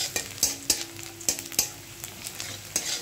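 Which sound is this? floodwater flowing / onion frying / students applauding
onion frying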